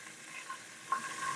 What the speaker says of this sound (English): Be careful when you're frying fish.